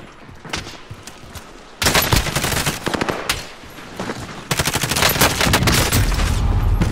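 Video game gunfire: rapid automatic bursts crack out loud and close in dense volleys, a quieter stretch before, then sustained heavy firing toward the end.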